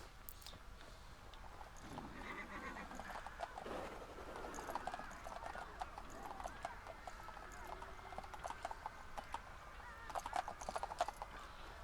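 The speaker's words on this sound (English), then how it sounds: "So got some nice horses there." Horses clip-clop with steady hoof beats in the post-apocalyptic London world of the Fallout: London video game, with game ambience, faint bird and fowl sounds and a few short whinny-like calls, all fairly quiet.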